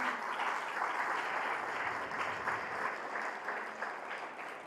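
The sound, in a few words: congregation applause in church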